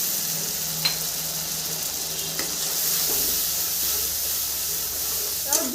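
Mustard paste with large sea bhola fish sautéing in a pan, a steady frying hiss with a few faint stirring clicks throughout.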